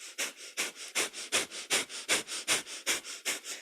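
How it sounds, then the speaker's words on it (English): Rapid breath of fire during a kundalini yoga practice, panting sharply in and out through the nose, about four even puffs per second, close and steady for several seconds with no talking. "it's our panting breath through the nose like a happy puppy"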